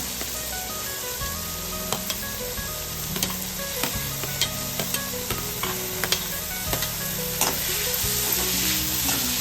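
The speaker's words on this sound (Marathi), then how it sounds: "तेल तापलंय आता त्याच्यात टाकायचा कांदा।" Chopped onion frying in hot oil for masala pav, a steady sizzle with repeated scraping stirs and clacks of a spatula in the pan throughout, close and fairly loud, no talking.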